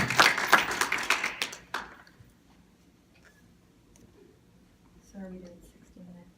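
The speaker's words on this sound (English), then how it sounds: "I will invite applause twice during the evening, and this is one of those times" An audience at a school board candidate forum welcomes the candidates with a burst of clapping that lasts about two seconds and fades into a quiet room, followed by faint speech.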